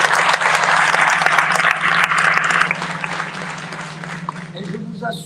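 Audience applause at an international finance meeting in Marrakech, a burst of steady clapping that thins out after a few seconds, with faint voices beneath as it fades.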